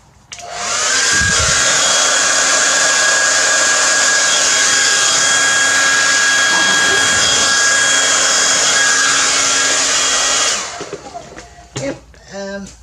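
A hair dryer blows a loud, steady stream of air over wet acrylic paint in a galaxy Dutch pour for about ten seconds, then cuts off, leaving faint rustling and brief speech.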